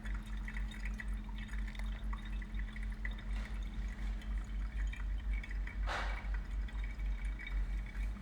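Water poured steadily over ground coffee in a Chemex brewer, a soft continuous trickle under a low steady hum, with one brief louder splash near the end.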